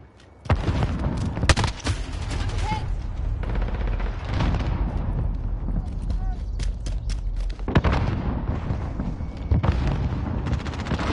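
Grenade blasts and gunfire in the Call of Duty video game: loud, heavy booms cut through a dense, continuous battle din, with a sharp burst near the start and another midway, while players talk over the action.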